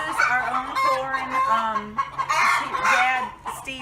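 Chickens on a farm cluck steadily and close by, several birds overlapping in continuous chatter with occasional louder squawks and a faint crow.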